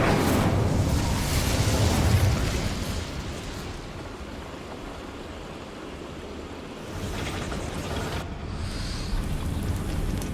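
Bombarda, the explosion spell of Hogwarts Legacy: a broad roaring blast that decays over several seconds into a rumbling, surf-like wash, with a second, smaller swell of debris noise later, no voices.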